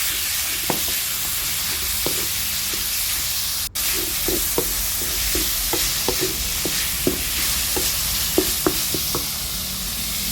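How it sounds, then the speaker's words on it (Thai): Minced pork stir-fries with curry paste in a hot pan, a steady loud sizzle broken by frequent scraping clicks of a spatula against the metal, with no talking. "พอพริกแกงหอมแล้วเราก็จะเอาหมูสับลงไปผัดเลยนะคะ ผัดให้หมูสับสุกเลยค่ะ"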